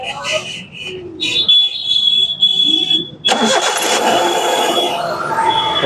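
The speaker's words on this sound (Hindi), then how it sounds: "तो फ्रेंड्स गाड़ी हमारी जो है स्टार्ट हो चुकी है" A 2015 Hyundai Eon petrol car with a suspected wiring fault that won't self-start from the key cranks and then catches, its engine rising into a steady running rumble with a high electronic tone, close and loud, with voices around it.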